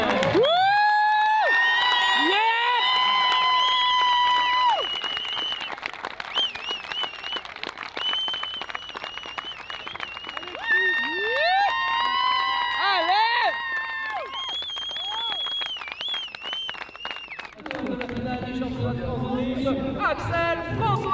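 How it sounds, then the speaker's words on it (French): Crowd at a French drift championship final podium cheering, whooping and clapping loudly and continuously, with shouts and voices ringing over the applause throughout. "Un tonnerre d'applaudissements"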